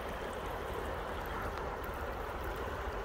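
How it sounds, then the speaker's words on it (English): The Yakima River, high and swollen after heavy rain, rushes past the bank at a boat launch in Reinhardt Park as a steady, broad, close wash of flowing water. "I'm standing on the banks of the Yakima River down here at Reinhardt Park"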